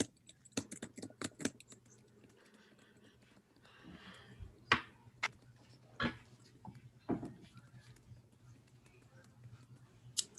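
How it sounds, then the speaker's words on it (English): Keyboard typing comes in quick clustered bursts of clicks with pauses between them, faint against a quiet room with a low hum in the background. "She sees Danny typing."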